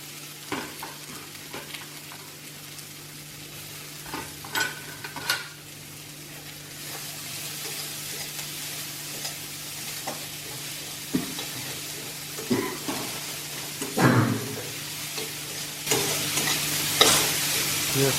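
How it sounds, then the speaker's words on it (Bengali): Chopped onions sizzle and fry in a pan for dal makhani, with a spoon scraping and stirring in irregular bursts over a steady frying hiss, close and moderately loud, with no talking. "পেঁয়াজটাকে মোটামুটি ব্রাউন করব।"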